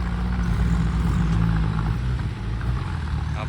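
Small 36-horsepower tractor engine revs hard while levelling a muddy rice field, a steady loud low-pitched drone with no talk over it.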